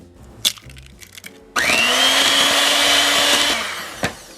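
An electric mixer switches on high and whirs steadily for about two seconds while beating eggs into flourless dark chocolate cake batter. It gives a loud, even motor whine, with a few light clicks and knocks before and after.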